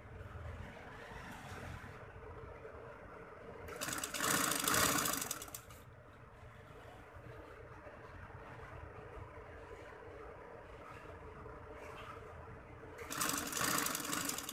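Sewing machine stitching fabric for a bridal tail maxi, faint steady motor hum with two louder bursts of fast running stitches, quiet and close, no talking.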